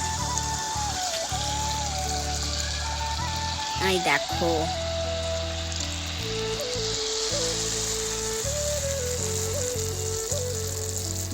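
Andosa, a fried pitha made from a batter of milk, semolina, flour and rice flour, frying in hot oil with a steady close sizzle and spattering, while someone talks over it.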